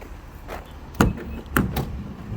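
A Nissan Quest minivan's sliding door closes fast: two sharp thuds about half a second apart, close and fairly loud, over faint background hiss.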